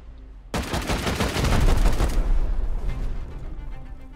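Rockets are fired at a door in the video game Rust: a sudden loud blast swells into a dense, rumbling barrage of rapid explosive reports that slowly fades and thins toward the end.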